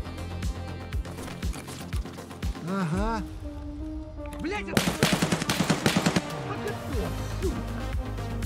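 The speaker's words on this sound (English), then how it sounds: "The shots are from the bridge" Gunshots in Escape from Tarkov fire in a rapid burst of sharp cracks midway, with scattered single shots around it. Video game music and effects play alongside, and voices talk over parts of it.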